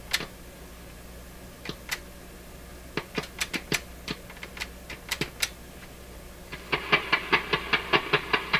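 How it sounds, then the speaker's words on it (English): A soldering iron on a bench beside a Nordmende Norma Luxus tube radio gives off sharp, irregular chucking clicks, scattered singly and in pairs, then a quicker, steady run of ticks near the end, fairly close with no talking. "That's my soldering iron, that chucking sound."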